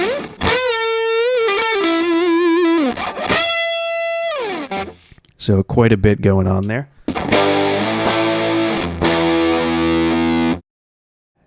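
Distorted electric guitar lead tone run through stock Reaper plugins with heavy compression and reverb, playing sustained, bending lead phrases loud and upfront, with a brief choppy burst midway and a short spoken comment near the end.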